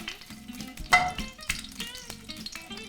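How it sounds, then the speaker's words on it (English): Garlic fries in a pan while tagliatelle with artichokes is being made. Close, crackling sizzle with uneven pops and spits, alongside light clinks of a utensil in the pan. "So we add the garlic. I like this sound."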